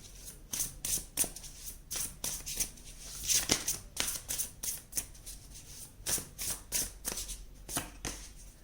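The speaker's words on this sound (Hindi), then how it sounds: "हम 3 कार्ड्स निकालेंगे।" Tarot cards are shuffled and drawn in quick, close riffling bursts with an uneven rhythm, separated by short pauses, with no one speaking.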